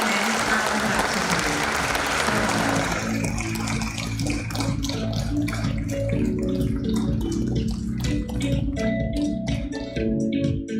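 Loud, dense applause from an audience at a stock exchange listing ceremony for Anand Rathi on the BSE, a sustained crowd clapping that thins into scattered individual claps toward the end.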